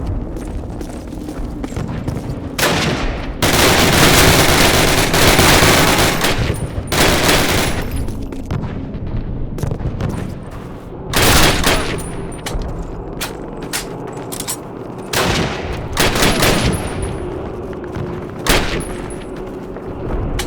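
Covering gunfire from the Call of Duty (2003) game: loud, dense bursts of rifle and machine-gun fire come in uneven volleys, with booming blasts and short quieter pauses between them.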